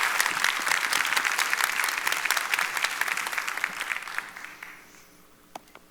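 Audience applause welcoming a speaker onto the stage at the Evolve Houston relaunch event, dense and steady at first, then thinning out and fading to a few scattered claps.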